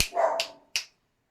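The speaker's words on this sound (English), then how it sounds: "Somebody's coming up, so the dogs were barking" Dogs bark at someone coming up to the house: two sharp, close barks, one drawn out and one short, followed by silence.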